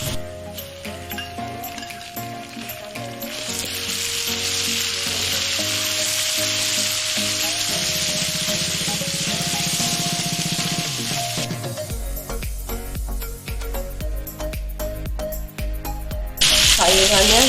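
Shrimp drop into a pan of golden fried garlic, setting off a loud bright sizzle that swells and then settles into steady frying with stirring clatter, with some background talk.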